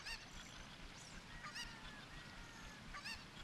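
A cucco chicken in the video game The Legend of Zelda: Ocarina of Time gives a few short, honking squawks over a steady background hum.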